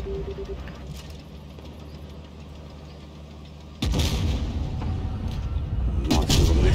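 A tank gun firing in the mobile game World of Tanks Blitz from a Grille 15 tank destroyer, a heavy boom that cuts in over a low idling engine, followed by a second blast moments later.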